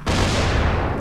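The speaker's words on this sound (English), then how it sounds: "Hey, those explosions." Explosions in the zombie game Dying Light: a loud, dense burst of blast noise that fills the whole second with a heavy low rumble and no pauses.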